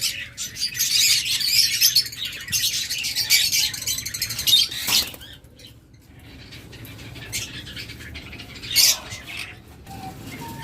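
Pet birds in a breeder's cages chirp and tweet in bursts, a busy chatter that dips briefly at the midpoint before picking up again.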